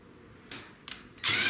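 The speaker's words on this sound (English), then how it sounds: "you can take a drill and you can use a drill on here and you can make that go up and down quicker" A power drill cranking an A-frame trailer jack: a couple of short bursts, then the drill running at full speed, loud and close, for the final moments.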